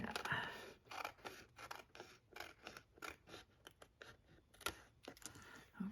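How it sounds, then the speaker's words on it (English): Metal craft snips cut excess cardstock from the back of a handmade Christmas card, giving a rapid run of crisp, close snipping clicks in an irregular rhythm with short pauses. "I'll take my snips and cut off anything that's extra"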